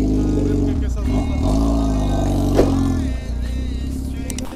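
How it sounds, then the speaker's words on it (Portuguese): A Honda CB1000 motorcycle engine rumbles loudly at close range and then is switched off, its deep idle dropping away near the end while someone talks over it. "Eu vou desligar a moto aqui, ó, antes que não pegue"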